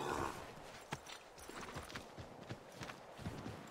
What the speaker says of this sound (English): And my horse appears out of thin air.